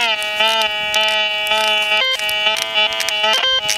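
Repeated electronic beeps from a White's MX Sport metal detector sounding over a target close to the surface, steady warbling tones that break briefly midway, loud and near, no talk.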